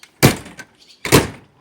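An RV that has sat unused for two years has its door slammed twice without latching. Each slam is a loud, close thud, spaced about a second apart, with wind noise between them.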